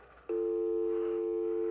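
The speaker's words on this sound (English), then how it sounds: "you got dial tone." Steady telephone dial tone from a Datastar C.A.T. mobile data terminal for telecom technicians, set to voice access; it switches on abruptly and holds as a continuous, clean, loud tone alone.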